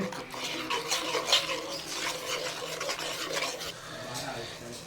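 A spoon scrapes and stirs chilli masala with a little water in a cooking pot, making continuous rasping, clattering strokes at close range with a faint hiss underneath.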